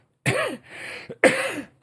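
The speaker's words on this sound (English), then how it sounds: "There he goes, clearing and coughing." A man clears his throat, then coughs twice in short harsh bursts, close and loud, with a brief pause between.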